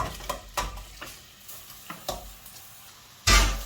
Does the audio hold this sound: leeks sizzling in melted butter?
yes